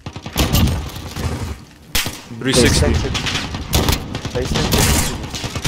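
Rapid gunfire bursts and whip-like shots from Call of Duty: Modern Warfare in a Spec Ops survival match, loud and dense throughout, mixed with players talking over the action.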